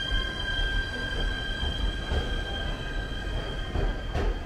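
A JR 253 series electric train, once used as the Narita Express, departs a station for Shinjuku, a steady low rumble with tonal motor whine and faint wheel squeal, continuous and fairly close, with no voices.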